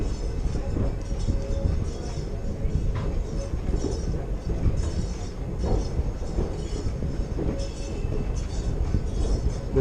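A passenger train rolls downgrade near a highway crossing with a constant, loud rumble of wheels and rail noise, steady throughout with faint clanks and no talk.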